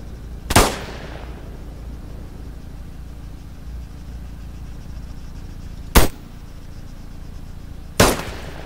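Gunfire in an online shooter video game: three sharp, isolated shots, one early and two more close together near the end, with a quiet stretch between them.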